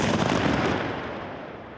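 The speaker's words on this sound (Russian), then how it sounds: "Внимание! Подрыв!" Controlled detonation of unexploded ordnance by sappers in Kharkiv region, a single heavy blast heard from a distance, its broad rumble rolling out and slowly fading over a couple of seconds with no voices.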